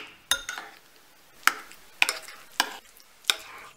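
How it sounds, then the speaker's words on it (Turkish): A spoon stirs a sauce mixed with crumbled white cheese in a bowl or pan, giving several distinct scraping clinks at irregular intervals, close and clear with quiet pauses between strokes. "Sos ile peyniri güzelce karıştırıyoruz."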